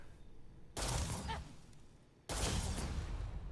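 Two sharp bursts of gunfire from companion Cora in the video game Starfield, each a sudden loud blast that lingers and decays, separated by a short lull, with no talking.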